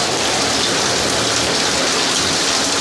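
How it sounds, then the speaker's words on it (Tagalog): Heavy rain pours down on corrugated metal roofing in a dense, steady roar of drops, loud and close, with no voices. "biglang lakas po ulan ng kanina"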